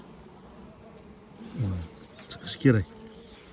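Honey bees buzz in short, swelling bursts at a hive while a colony is moved into a new box fitted with frames. The buzzing is fairly faint against a quiet background, and someone speaks briefly.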